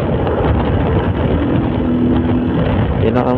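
A motorcycle held around 60 to 70 kph and stuck in third gear drones steadily at close range, buried in heavy rushing wind noise throughout.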